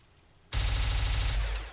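A Thompson submachine gun fires in a video game, a sudden loud automatic burst that cuts in from near silence and roars for a little over a second before tapering off.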